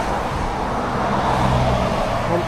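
Road traffic at a truck stop in Thailand, a continuous roar of cars and heavier vehicles passing nearby, steady and fairly loud throughout.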